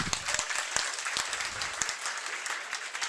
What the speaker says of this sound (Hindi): मैम का हार्दिक स्वागत करता हूँ एक बार तालियों के साथ